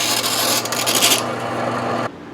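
A cabinet scraper glides lightly over a wooden surface, making a steady, close, dry rasping hiss for about two seconds before it lifts off and goes quiet.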